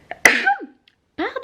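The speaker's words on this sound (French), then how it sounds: "je crois que je vais éternuer" One sharp sneeze bursts out after a short catching breath, then a short gap and a brief murmured voice afterward.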